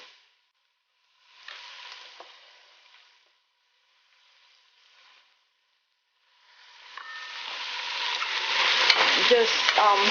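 About six garlic cloves sautéing in a pot for a spicy bean gumbo, starting with a couple of short, soft bursts broken by silence, then a steady sizzle that builds and grows louder over the last few seconds.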